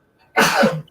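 A single loud, sharp sneeze bursts out close by, a brief full-voiced blast following a faint intake of breath and trailing off quickly.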